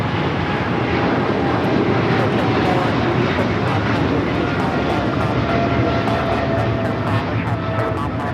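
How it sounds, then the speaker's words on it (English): A heavy jet takes off from the south side of Los Angeles International Airport, a steady, loud broadband engine roar that holds throughout, with faint airport background noise. "We got a rare heavy taking off here on the south side."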